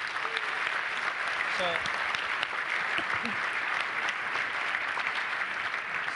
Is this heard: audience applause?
yes